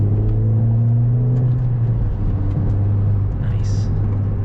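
A cheap turbocharged hot hatch with a rusty body pulls hard in third gear to pass, its engine droning and climbing in pitch, close and loud, with a brief whoosh near the end.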